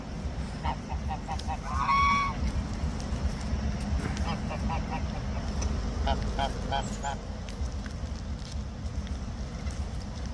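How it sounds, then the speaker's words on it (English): A flock of geese eating crab apples outdoors in Montana, with ducks nearby, gives repeated nasal honks in scattered bursts, some clustered and overlapping, over a steady low rumble of wind or background noise. "There's ducks, a whole bunch of geese."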